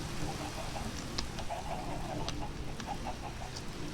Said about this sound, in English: how did a chicken get in with my cows?